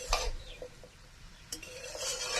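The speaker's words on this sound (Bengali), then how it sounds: "এবার শাকের সঙ্গে সবটা কষিয়ে নেবো ভালো করে।" Pumpkin greens and spices being sautéed in a pan over a wood-fired, dung-plastered clay stove, with a few light scrapes and clinks of a utensil stirring, fairly quiet and close.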